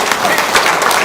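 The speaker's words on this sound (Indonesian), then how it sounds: "Wow, tepuk tangan" An audience applauds at a religious talk, a dense wash of clapping that stays steady and fairly loud for its whole brief span, with voices mixed in.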